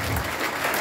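A short, dense burst of audience clapping fills the room at a motivational coaching event, loud and close with no talk over it.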